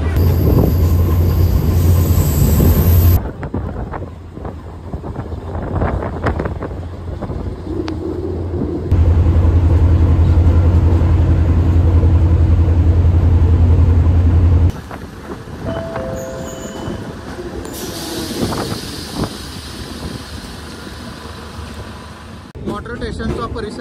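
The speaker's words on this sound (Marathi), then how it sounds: "आपली ट्रेन वाटारला आलेली आहे" A DEMU passenger train arrives at Wathar station on the Pune to Kolhapur route. Loud rumbling and clattering wheels are heard inside the train, with squealing brakes and bursts of louder noise as it slows.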